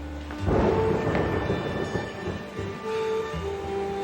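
Deep rolling thunder rumbles loud and close, swelling from a low boom into a long grumbling roll that surges again near the end, with no voices over it.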